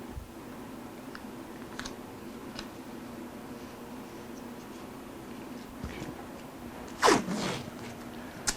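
Small bits of tape are torn off in a workshop while a spec table is being built. Several faint ticks and light rips sound up close, followed by one sharper, louder rip near the end.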